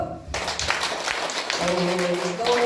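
Elderly residents at a township senior college lecture break into a round of clapping after a folk song, a scattered patter of hands in a hall, with a voice and a tone rising in over it.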